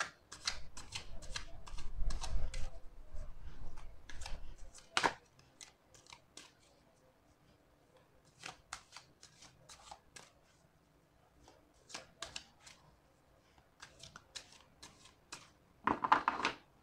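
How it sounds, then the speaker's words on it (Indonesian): Tarot cards being shuffled by hand in bursts of crisp riffling and flicking, a dense rustle near the start, then scattered short riffles and taps with quiet gaps between, close and fairly soft. "Oke, saya acak dulu kartunya."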